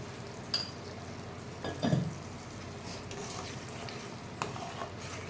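Garlic kuzhambu simmers and sizzles in a pan at a steady low level while a spoon stirs through it, with a few louder scrapes and knocks against the pan.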